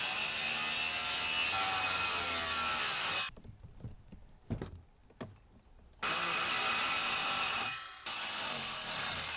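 Power saw cutting a notch out of a wooden board during a trailer conversion, with loud continuous sawing, a quieter middle stretch of knocks and handling, then the cut resuming, no voices.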